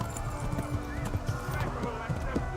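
Rhythmic horse hoofbeats clopping at a steady trot in Kingdom Come: Deliverance, close and clear over a low game soundscape, with a voice talking over it.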